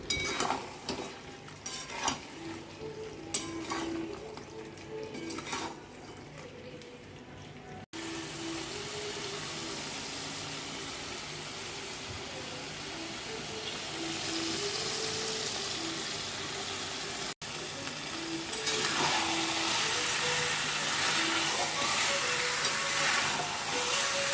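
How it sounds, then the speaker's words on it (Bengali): Mutton stirring and frying in a pan with garlic and fried potato, a continuous sizzle and hiss with scraping strokes of a spoon against metal, close by, the frying growing louder and more even after a brief cut. "অল্প অল্প জলের ছিটা দিয়ে মাংসটাকে ভালো মতন কষিয়ে দিতে হবে। এবার রসুন আর ভেজে রাখা আলুটা দিয়ে দিলাম।"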